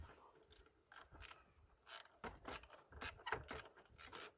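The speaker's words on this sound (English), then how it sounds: "So next we're gonna undo the battery clamp, which is secured by 13mm" Ratcheting wrench undoing the 13mm battery clamp bolt on a VW Polo, a quick series of close metallic clicks and rubbing scrapes in bursts, with no talking.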